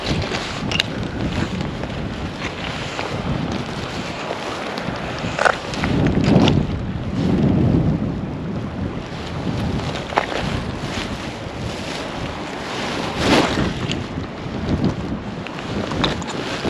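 Gusty wind sweeps over the River Findhorn during salmon fishing beside a fast run, a steady broadband rush with louder buffeting swells about midway, close and unbroken, with no voices.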